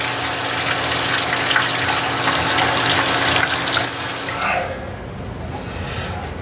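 Water pumped into a brewing vessel while making a Belgian witbier, a steady broadband rushing pour that runs loud and continuous for about four and a half seconds, then cuts off to a quieter hiss.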